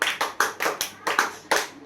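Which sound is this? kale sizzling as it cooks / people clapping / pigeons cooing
people clapping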